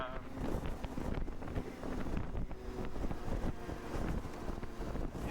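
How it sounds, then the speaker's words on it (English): Wind buffets a motorcycle helmet microphone at about 15 to 25 km/h, giving a low, rough, constant rumble close to the mic with faint road and engine noise under it. "like the wind is noticeable, but it's nothing like yesterday"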